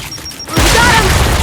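A frag grenade goes off in the Gears 5 video game, a sudden loud blast after a quiet stretch, then a sustained roar of rumbling debris and noise for the rest of the moment.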